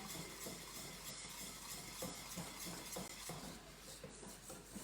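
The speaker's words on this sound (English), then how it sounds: "Try and get all those sides with your whisk" A whisk scraping and stirring around the sides of a pan of melting sugar, with steady soft clinks and scrapes at close range over a faint background hiss, no talking.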